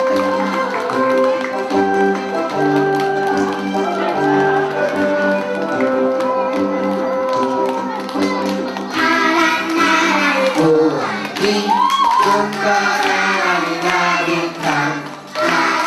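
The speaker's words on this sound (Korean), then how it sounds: "우리 친구들이 지나갈 때마다 힘찬 박수 부탁드리겠습니다" An audience claps as children parade past at a school arts festival, the clapping mixed under loud music that fills the whole stretch, with cheering and voices rising in the later part.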